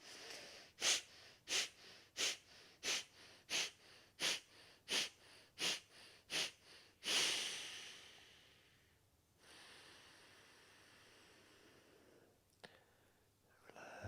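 Forceful Kapalbhati yoga breathing: about ten sharp, rhythmic exhalations through the nose in quick succession, then a long, audible inhalation and a quieter held breath, close and clear with no talk.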